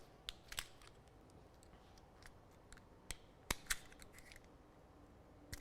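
Corroded automotive wire ends being stripped of insulation, heard as faint, sharp clicks and snips of a cutting tool scattered irregularly over a quiet background, with a few louder bursts.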